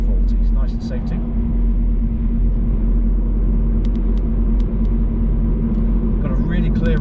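Car driving along a clear road at around 40 mph during a driving lesson around Lincoln, with steady engine and road rumble throughout and an instructor's voice talking over it.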